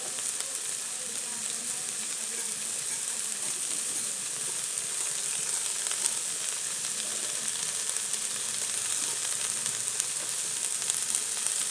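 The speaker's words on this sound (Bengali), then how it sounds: "একটু কষিয়ে নেব।" Chopped vegetables, rice and lentils sauté in a hot pan with salt and two green chilies, giving a steady, even sizzle that stays unbroken and close throughout.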